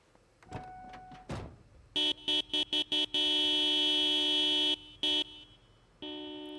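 Car horn in the zombie survival game Project Zomboid, sounding in a run of short beeps followed by one long sustained honk, then two more bursts, loud and synthetic-toned.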